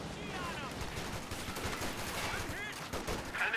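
An MG42 machine gun in a video game battle rattling off rapid bursts of gunfire, dense and continuous with crackling impacts, heard under a commentator's voice.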